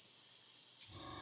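An airbrush sprays white paint through a stencil mask in short, light passes, a soft close hiss that grows a little fuller toward the end.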